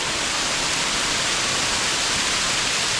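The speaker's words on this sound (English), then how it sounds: "This water is just coming out." Water gushing out of the rock and flowing through a flooding quarry, a loud, steady broadband rush like a close waterfall that fills the whole stretch with no talking.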